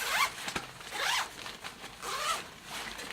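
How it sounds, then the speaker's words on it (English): The zipper on an expandable packing bag is pulled open in several quick rasping strokes, each one close and loud, with short pauses between them and no speech. "I'm zipping"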